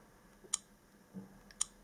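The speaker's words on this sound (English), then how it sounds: "if you click on something, it gives you a reply, a noise, and this click sound you can remove." An Alcatel Shine Lite smartphone gives two faint, sharp touch-feedback clicks about a second apart when its screen is tapped, in a quiet room.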